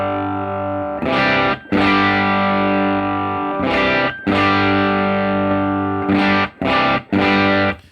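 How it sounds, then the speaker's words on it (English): Electric guitar played through a Line 6 Helix preset with heavy distortion, loud sustained chords ringing out in long held bursts separated by short gaps, then quicker stabbed chords near the end, with no talking. "as you turn up the bias, it seems like we're getting a lot more distortion"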